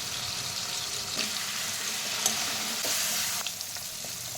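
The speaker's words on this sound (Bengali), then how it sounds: "আমি পনিরটা ভেজে দেবো" Paneer pieces seasoned with salt and turmeric sizzle steadily in hot oil in a kadai, a close, bright crackle with a few sharp pops and a slight swell near the middle.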